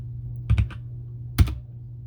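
A few quick keystrokes on a computer keyboard as a passphrase is entered, two short clustered bursts of clicks, close and clear over a steady low hum.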